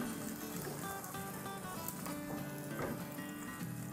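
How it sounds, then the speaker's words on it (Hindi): Pepper steak pieces being mixed into vegetables in a hot pan, giving a steady, close, dense sizzle with faint scraping of stirring throughout, no voices. "और ये स्टेक जो है वो डालेंगे अपने वेजिटेबल्स में। और इनको अच्छे से मिक्स करेंगे।"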